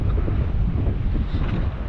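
Strong wind at sea buffets the microphone in a steady low roar, with no voices and only faint hints of open water at low tide.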